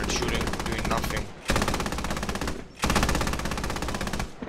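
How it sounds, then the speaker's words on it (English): Automatic machine gun fire in the video game Squad, delivered as three long continuous bursts separated by brief pauses, loud and close. "Just sitting there shooting, doing nothing."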